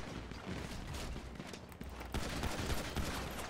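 Rapid bursts of gunfire in a GTA 5 roleplay game shootout, dense and continuous, with a slightly louder stretch toward the end.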